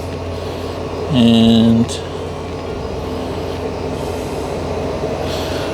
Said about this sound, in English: it's the thermo fans kicking in